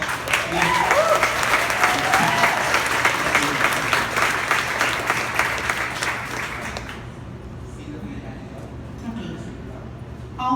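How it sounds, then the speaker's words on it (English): Audience at a public speaking event bursts into a sustained round of applause, dense and loud for about seven seconds before it abruptly falls away into a quiet room. "A round of applause."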